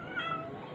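A house cat gives a single drawn-out meow, fairly close and clear over steady background noise.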